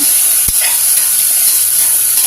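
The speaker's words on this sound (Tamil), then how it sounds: "வெங்காயம் வதங்கட்டும்" Onions sauté in hot oil in a pan, a loud, steady sizzling hiss with a brief stir or clink near the start, no voices.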